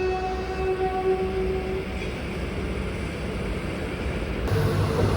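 A train rolls slowly into Tirunelveli station with a steady rail rumble, while a high tonal whine fades over the first two seconds and the noise shifts slightly near the end.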